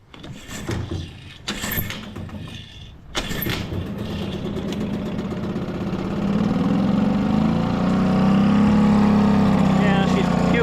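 A Mercury outboard motor on a boat starts up and settles into a low, rough idle. The engine hum builds and steadies toward the end, with the speaker talking over it early on.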